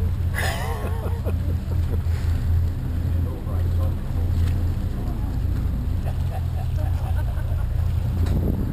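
A boat engine idles with a low, steady rumble throughout, with a brief voice-like sound near the start over light wind.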